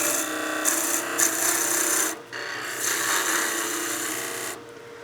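A gouge takes a peel cut on spinning wood on a lathe while a Christmas gnome is turned, giving a loud, continuous scraping rasp broken by a few short pauses, with no speech.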